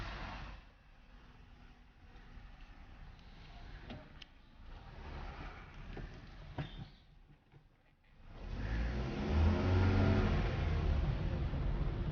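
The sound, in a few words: car accelerating and driving away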